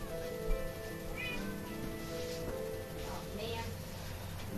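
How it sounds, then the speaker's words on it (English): Cat meowing in the Minecraft video game, a few short meows scattered over a steady background of game sounds, fairly faint. "Get the cat out of my house."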